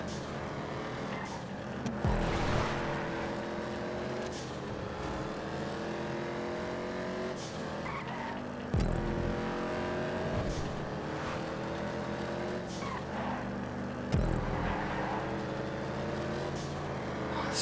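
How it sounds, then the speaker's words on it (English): Racing cars in the video game GTA 5, engines revving and shifting in repeated rising sweeps as many cars run close together, continuous and fairly loud with no talk. "So many cars coming up."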